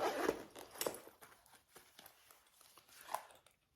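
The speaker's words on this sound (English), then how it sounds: "And it zips all the way down and around." A zipper on a small pocket of a new bag is drawn down and around, giving quiet rasping bursts and scattered ticks, the loudest near the start and another about three seconds in.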